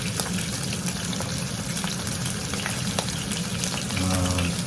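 A pork chop sears in a pan over high heat, giving a steady, close sizzling hiss throughout with light crackles and no talking.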